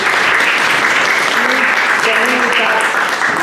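Sustained applause from a lecture audience in a parish hall after a talk, dense steady clapping filling the room with faint voices underneath.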